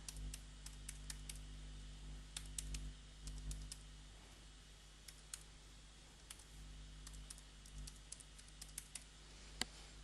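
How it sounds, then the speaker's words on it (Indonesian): Light, quick computer keyboard typing with irregular key taps over a steady low hum as an email address is entered; no voices. "Oke, and then type your email again."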